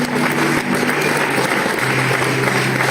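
A church congregation applauds in steady, fairly loud clapping that continues throughout, with a low murmur and a faint tone underneath.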